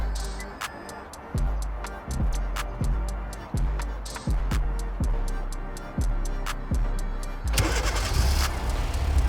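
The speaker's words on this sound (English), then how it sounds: "And here you go, the car is running." A 2015-2019 Hyundai Sonata with push-to-start is started by a remote starter: a steady series of rhythmic cranking pulses, loud and close, then the engine catches into an even, continuous running hum.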